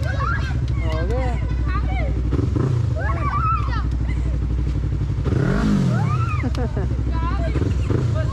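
Motorcycle engines rev loudly and close on a ride in Casiguran, Aurora Province, rising and falling in several throttle blips over a steady idle rumble, with people talking throughout.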